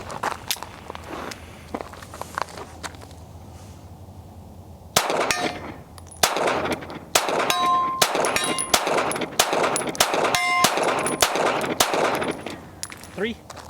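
A Smith & Wesson Bodyguard 2.0 pocket pistol fires at steel targets outdoors, a quiet stretch followed by a rapid string of sharp shots, each with a bright metallic clang ringing off the plates.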